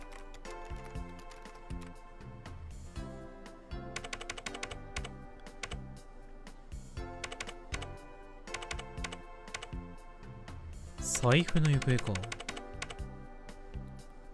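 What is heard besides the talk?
keyboard typing in a video game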